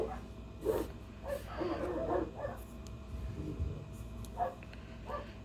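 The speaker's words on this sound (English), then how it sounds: "Please ignore the barking. Our neighbors have dogs too." Several dogs bark and yip in short, scattered bursts, somewhat distant and fairly faint, with brief whimpers between barks.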